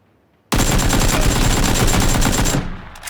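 Sustained automatic fire from an AKM rifle in PUBG, one continuous loud burst of rapid shots lasting about two seconds after a brief quiet start, then cutting off abruptly.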